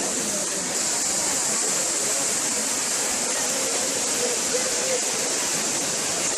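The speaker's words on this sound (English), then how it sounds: "We are now here at the very famous Trevi fountain here in Rome" The water of the Trevi fountain in Rome rushes in a steady broadband roar, loud and continuous like a waterfall, with crowd noise faintly beneath.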